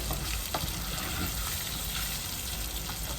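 Food frying in a pan as ugali is cooked, a steady close sizzle with faint stirring scrapes, with no talk over it.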